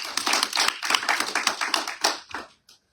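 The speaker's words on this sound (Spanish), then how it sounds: "Denle un aplauso al Señor." A church congregation at a Friday family service claps, loud, close and somewhat uneven, for about two and a half seconds before tapering off into a single stray clap.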